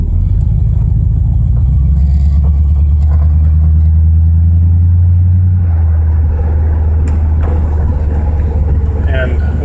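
A Mazda RX-7 fitted with a Ford 302 5.0 V8 cruises down the road, its deep engine rumble and road drone steady and loud throughout, easing slightly in the second half with a few faint knocks above.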